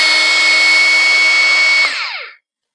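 A Bosch GBH 36 VF-LI Plus cordless hammer drill whines steadily at high speed with hammer action off, close and loud, then the motor cuts off and the pitch winds down to silence.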